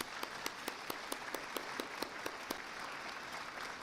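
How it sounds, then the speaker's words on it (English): Audience applause at a chamber of commerce community event in Raleigh, a steady patter of many hands with a few sharper individual claps standing out, fairly distant and alone without talk. "Let's give them a round of applause."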